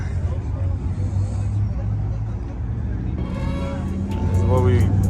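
Hot rod cars idle and rumble at a car meet in Deer Park, Long Island, a low engine drone under the murmur of a crowd, with a brighter mechanical whine rising near the end.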